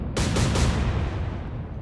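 Naval guns fire in an Atlantic Fleet warship battle game, a few rapid heavy booms in quick succession followed by a long rumbling decay.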